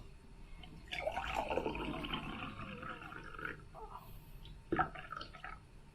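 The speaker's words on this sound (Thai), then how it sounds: "นี่นะคะเราก็จะเทน้ำนะคะ ให้ถึงระดับหนังยางที่เรารัดเอาไว้นะคะ" Water poured into a container up to a rubber-band mark while making steamed egg dog food, a steady splashing pour for a few seconds, then a brief louder splash near the end.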